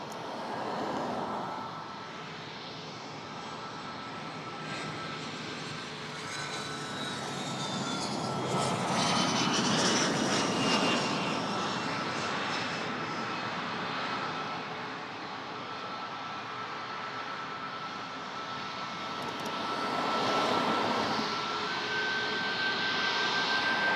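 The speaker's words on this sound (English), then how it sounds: "This is a Medivac. A Learjet 40." A Learjet 40 medevac jet at Toronto airport gives a sustained, fairly distant engine roar that swells and eases over time, with a thin whine on top and no talking.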